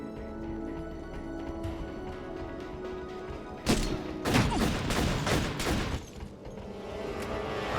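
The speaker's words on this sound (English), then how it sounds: "That was a shotgun." Shotgun blasts in the game Syphon Filter: Dark Mirror, several loud booming shots in quick succession midway, over a steady bed of game music and ambience.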